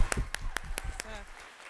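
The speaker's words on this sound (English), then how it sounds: "Let's give all these graduate students a round of applause." A handful of sharp, separate claps ring out at a graduation ceremony for graduate students, about five evenly spaced hits that then fade into a quieter room.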